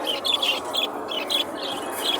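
Small birds chirp in short repeated bursts at a bustling duck, chicken and pigeon market in Bangladesh, the calls moderately close over a steady murmur of background noise.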